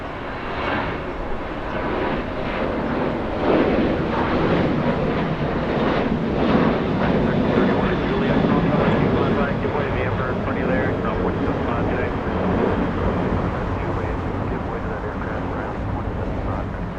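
American Airlines Boeing 737-800 jet at Los Angeles International Airport, a loud, steady engine roar that swells in the middle and then holds, with someone talking over it at times.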